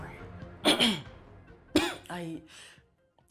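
A person in a Nigerian movie scene coughs and clears their throat in two loud, close bursts, with some voiced sounds between and after.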